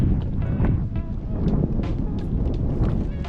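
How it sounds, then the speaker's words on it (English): Gusting wind buffets the microphone beside a pond, a loud, steady roar with rising and falling surges and no voices. "it's a bit windy"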